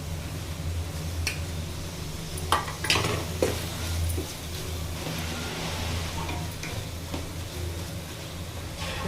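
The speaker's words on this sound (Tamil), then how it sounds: "நம்ம கழுவி வாஷ் பண்ணி வச்சுருந்த கொத்தமல்லி, புதினா எல்லாம் அதில் போட்டுடலாங்க" Washed coriander and mint are tossed into sizzling prawn biryani masala. A continuous close fry runs under several stirring scrapes and knocks of a utensil against the pot, with no voices.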